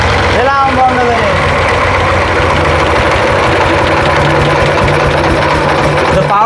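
A Changchai diesel engine idles with a steady, loud low throb and mechanical rattle throughout, while someone talks over it near the start.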